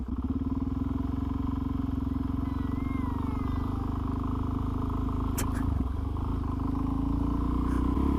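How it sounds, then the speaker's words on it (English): Motorbike engine running steadily throughout, a constant low rumbling drone that stays loud and even, with a faint brief clatter partway through. "Was my bike too loud?"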